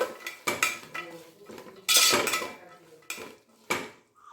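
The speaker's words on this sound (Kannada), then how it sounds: "ಈಗ ಚೆನ್ನಾಗಿ ಮಿಕ್ಸ್ ಮಾಡ್ಕೊಂಬಿಡೋಣ." A spoon stirs fried vermicelli pulao in a metal pan, giving a series of sharp scraping clanks and clinks at an uneven rhythm, loud and close with brief quiet gaps between strokes.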